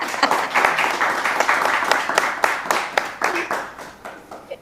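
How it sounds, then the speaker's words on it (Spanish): An audience applauds after a poetry reading, with a dense burst of hand clapping that carries on steadily for several seconds before thinning out toward the end. "Pueden aplaudir si quieren."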